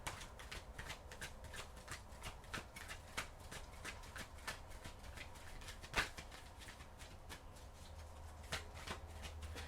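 Tarot cards are shuffled by hand in a quiet room, a faint continuous run of soft riffling flicks and taps with one sharper snap near the middle.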